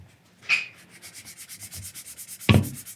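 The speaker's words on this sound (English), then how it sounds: "320 grit little sanding block here" A small 320 grit sanding block rubs back and forth by hand in quick, even strokes, a soft rhythmic scratching that repeats steadily, close up, with a couple of sharper knocks at the start and near the end.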